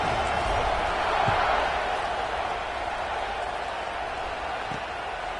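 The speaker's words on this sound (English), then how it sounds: "this crowd is buzzing after that last score" Stadium crowd in a football video game buzzes with a constant, broad roar of many voices that swells briefly and then settles, with a couple of faint thumps underneath.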